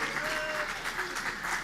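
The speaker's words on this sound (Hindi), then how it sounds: "देखो इनका पूरा गैंग तालियां बजा रहा है।" Audience applause at a seminar in Canada, a dense steady wash of many hands clapping together for the whole stretch, fairly loud and continuous.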